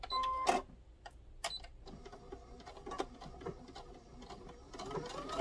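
Sewing machine stitching around the curves of a small fabric mitten for a gnome craft, close mechanical whirring and clatter in short runs with a few sharp clicks.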